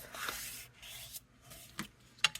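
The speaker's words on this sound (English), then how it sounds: "Burnish that real good." A folded card of Berry Burst cardstock, 11 by 4 1/4 inches and folded in half, is burnished with several quick, close, soft rubbing strokes, faint scraping passes separated by brief pauses.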